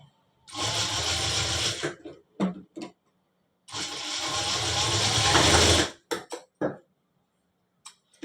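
A sewing machine stitches a shirt pocket in two loud, whirring bursts of about one and a half and two seconds, each followed by brief clicks and handling sounds, with quiet gaps between.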